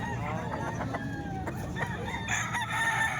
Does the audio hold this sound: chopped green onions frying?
no